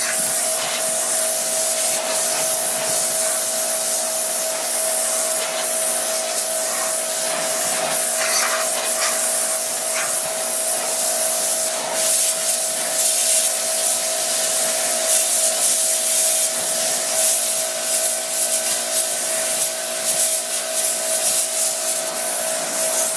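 A power washer blasts Plasti Dip off a surface in a continuous loud hiss and spray, steady throughout with slight fluctuations and no voices.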